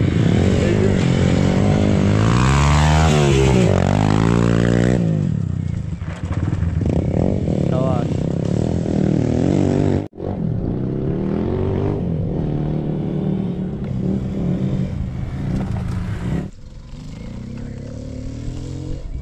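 Dirt bikes practicing on a motocross track in Kolkata, with engines revving up and down, passing close and loud, then droning more steadily from a distance, with brief cuts in the sound.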